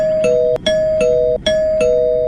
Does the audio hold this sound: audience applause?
no